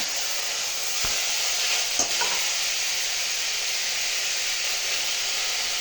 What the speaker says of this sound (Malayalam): നല്ലോണം ചുറ്റി കഴുകി വെച്ചിരിക്കുന്ന കുമ്പളങ്ങയും കൂടെ ആ കൂടെ ഇട്ട് നമ്മൾ വഴറ്റുവാണ്